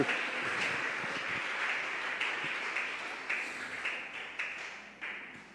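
Church congregation applauding God during a Spanish-language service, a continuous wash of clapping with periodic sharper claps rising and then tapering off, moderately distant in a reverberant hall.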